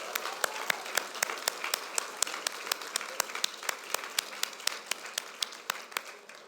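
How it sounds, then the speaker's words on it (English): Audience applause at a business public policy awards forum: a steady run of distinct, evenly spaced claps at moderate volume, continuing for several seconds without fading, with no talk over it. "give them a round of applause as they make their way up"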